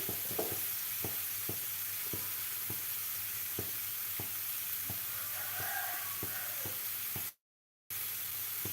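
Mixed vegetable thoran with grated coconut and salt being stirred in a pan: a steady soft sizzle with regular light taps of a spoon on the pan, faint and close, with a brief silent gap near the end.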